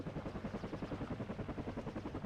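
A Cobra attack helicopter in the video game WARNO gives a steady, fast rotor chop, with even pulses repeating throughout at a moderate level and no talk over it.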